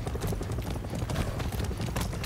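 A horse in the video game Far Cry 6 trots with brisk, rhythmic hoof clip-clops, steady and close throughout.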